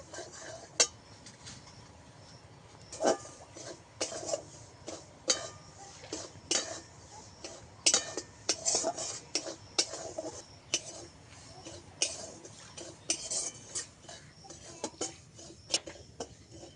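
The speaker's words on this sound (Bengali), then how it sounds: "ভালো করে সুজিটাকে ভেজে নিতে হবে।" Semolina being dry roasted in a pan for palm fritters, with a spoon scraping and clinking against the metal in quick irregular strokes, close and moderately quiet, with no talking.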